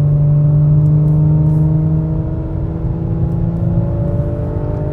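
A steady, loud engine drone comes from an Audi S5 accelerating on the German autobahn, heard from inside the cabin, with a sustained pitch that shifts slightly as the car pulls harder.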